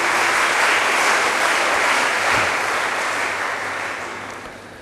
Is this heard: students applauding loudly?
yes